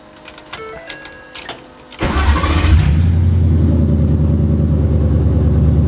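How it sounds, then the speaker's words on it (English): A truck engine cranks for a couple of seconds, then catches and settles into a steady, loud idle that rumbles on to the end, close to the microphone. "We'll go ahead and start up the truck."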